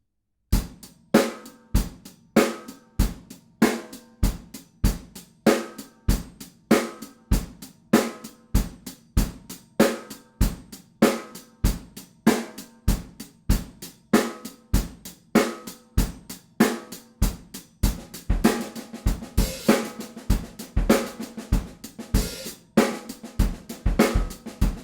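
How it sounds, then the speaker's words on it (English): Percussive music in an uneven 7/4 meter, with sharp evenly spaced hits grouped in repeating seven-beat cycles, growing brighter and denser toward the end with no voices. "And so you create a 7/4 measure and it sounds something like this."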